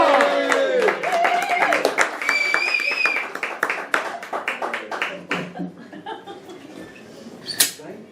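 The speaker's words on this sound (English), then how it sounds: "start clapping" Comedy club audience claps and cheers as a comedian is brought on stage, with sharp, scattered claps near and loud, mixed with whoops and voices over about eight seconds, thinning toward the end.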